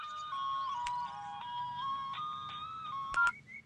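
A melodic electronic phone ringtone plays a bright repeating tune of steady tones, clear and moderately loud, with no talk over it.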